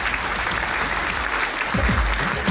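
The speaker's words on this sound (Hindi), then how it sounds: "जोरदार तालियों के बीच में।" An audience at a company anniversary event applauds in a continuous wash of clapping that swells louder toward the end, with a few voices rising faintly beneath it.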